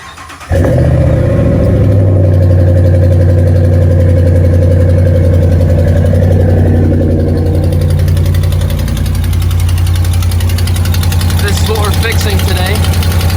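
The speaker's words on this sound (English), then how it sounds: "Here we go, let's get a little cold start." A Ram pickup truck fitted with longtube headers cold-starts with a quick crank and catch, then settles into a loud, deep, steady idle with a rumbling exhaust note that holds close for the rest of the time.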